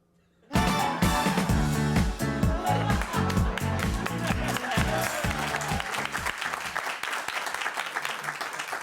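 A studio audience breaks into loud, sudden applause mixed with music, dense clapping that holds strong for several seconds and then slowly thins.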